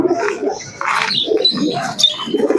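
Several pigeons coo in low, rolling calls at the Shantipur pigeon market, close and fairly loud, with occasional higher chirps mixed in.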